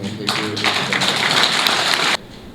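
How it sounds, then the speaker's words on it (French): Crowd at an outdoor political rally in Bassila, Benin, breaking into dense applause that holds steady for about two seconds and then cuts off sharply. "Je veux que vraiment vous applaudissiez très fort"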